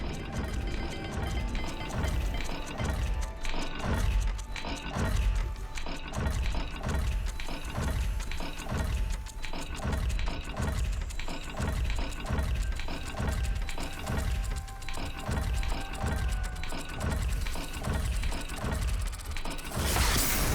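Heavy mechanical grinding repeats in a steady rhythm as a large gate mechanism in Hogwarts Legacy ratchets open with clanking gears and creaks, loud and continuous.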